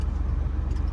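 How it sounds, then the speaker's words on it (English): A car on a city street in Kensington, Philadelphia, a close low engine rumble pulsing steadily through a brief moment. "Whoa, car coming."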